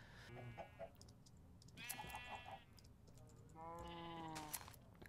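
Several sheep in Minecraft bleat in turn, clustered together on a Hermitcraft survival server, giving a series of wavering, nasal calls that overlap at moderate volume, with no speech.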